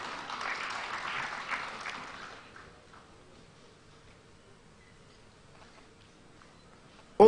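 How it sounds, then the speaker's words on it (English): Audience clapping at a Nigeria Customs Service event, a short burst of applause lasting about two seconds before fading into quiet room tone, ending with a sudden loud knock. "Please, a round of applause for the COA."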